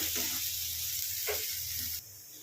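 Onions and green chillies frying in a pan, a steady close sizzle that carries on throughout, with a brief louder hiss around the middle and a slight drop near the end.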